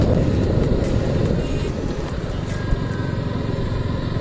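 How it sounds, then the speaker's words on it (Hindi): A 2021 KTM RC 200 motorcycle runs with its engine droning loudly and close, a steady, throaty low rumble that holds evenly throughout with small fluctuations in intensity. "यार आवाज़ बहुत प्यारी है इस बाइक की।"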